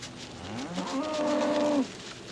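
A cow moos once in a long, drawn-out call from a corral of fly-covered cattle, close and loud against a steady outdoor background with no talking.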